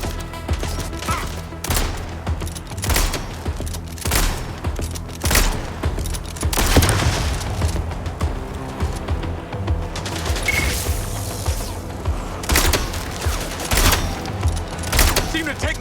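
Dense gunfire in the video game MindsEye, rapid shots and bursts crackling continuously with booms and crashes, loud and close, with talk mixed in at times.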